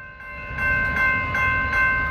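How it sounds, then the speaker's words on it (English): Two SJVR locomotives, 2164 and 2407, pass close by on Mono Street in Fresno, California, with a loud, steady multi-tone horn blast over a heavy diesel rumble and rail noise. "My favorite locomotive is back!"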